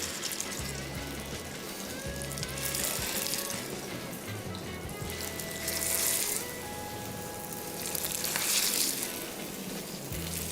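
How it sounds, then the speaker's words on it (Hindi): Kebabs frying in hot oil in a home kitchen give a steady, close sizzle and crackle that runs throughout, with no talk over it. "कबाब इसमें थोड़े से फ्राई होंगे, बहुत जल्दी पक जाएंगे"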